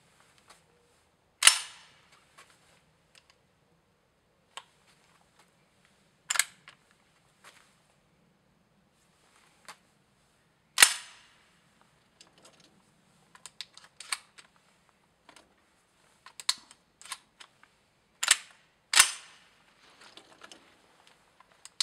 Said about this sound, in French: Donc tu vas remonter le fusil.